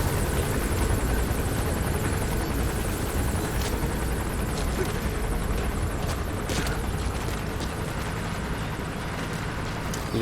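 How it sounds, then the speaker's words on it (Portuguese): A helicopter in the video game Metal Gear Solid V: The Phantom Pain fills the scene with steady rotor thrum and engine roar, loud and close, with faint rhythmic chopping throughout. "O helicóptero aí vai me atrapalhar, velho."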